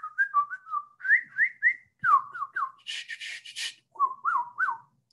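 A person whistles an imitation of a northern mockingbird's song: clear, close whistled phrases, each repeated three or four times in a group, broken by a brief harsh rasping burst, then more whistled phrases.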